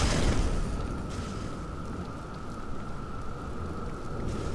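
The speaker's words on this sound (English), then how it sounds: "In this rainy, wet forest." Rain pours over a wet forest in the game GUILT: The Deathless, a dense, even hiss of falling water that holds steady throughout, with a thin tonal hum running beneath and no talking.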